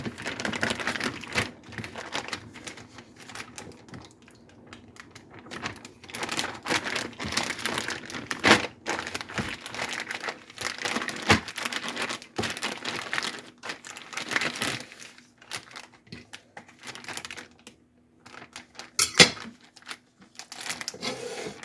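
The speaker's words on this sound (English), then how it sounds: "I just like the easy cleanup of a plastic bag." Continuous crinkling and rustling of a plastic bag being handled close up, with scattered sharper crackles and no talking.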